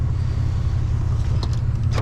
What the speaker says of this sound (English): we'll go with the power window. We'll go all the way down.